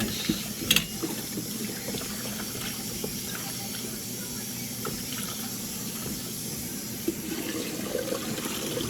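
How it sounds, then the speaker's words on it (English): Water runs from a tap over vegetables being washed for a Jamaican vegetable soup, a continuous moderate splashing stream with a couple of brief clinks and no talking. "So I usually let the water run clear"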